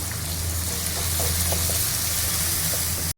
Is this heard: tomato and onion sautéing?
yes